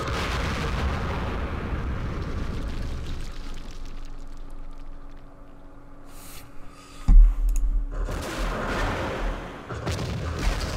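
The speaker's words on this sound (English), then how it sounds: "Oh, rockets!" Rocket explosions in the Campaign Series Vietnam war game, a steady rumble of artillery-like fire followed by one sharp loud blast and continuing rolling booms.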